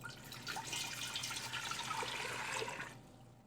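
About four and a half cups of water poured into a pot of onion skins, a steady splashing stream for around three seconds, close and moderately loud, then stopping abruptly.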